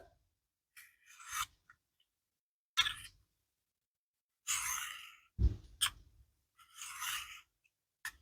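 Knife blade, apparently stainless steel, sharpened on a fine diamond stone, giving several separate short quiet scraping strokes with silent gaps between them, close by and alone.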